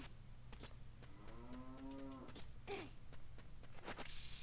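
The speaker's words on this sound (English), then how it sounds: "I hear cows for some reason." Cows low in a grotto in the Ocarina of Time video game, one long drawn-out moo rising and falling in the middle, with footstep taps and game sounds around it, fairly quiet.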